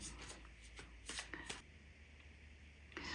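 A deck of tarot-style spiritual cards is shuffled in several quick papery riffling bursts, close and fairly quiet, with no talking.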